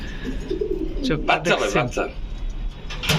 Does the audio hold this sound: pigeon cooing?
yes